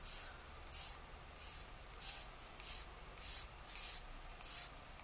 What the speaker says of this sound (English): what I'll do is I'll go to the next finer grade of sandpaper or abrasive paper